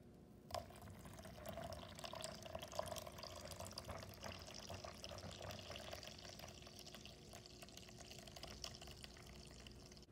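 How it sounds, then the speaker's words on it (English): Green juice of honeydew, green mango, cucumber, ginger and lemon being poured over a mixture, a steady close liquid trickle with faint splashes running evenly throughout with no talking. "I just pour my green juice over it now."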